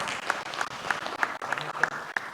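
A seated audience applauds a guest speaker at a forum, giving a short round of steady, moderately loud clapping with a few sharper claps standing out above the rest.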